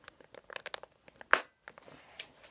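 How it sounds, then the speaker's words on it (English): The plastic flip lid on a Pacifica wipes pack snaps shut with one sharp, close click. Soft handling crinkles of the packaging come before and after it, and no one speaks. "They click so you know they're closed, and it keeps them moist inside"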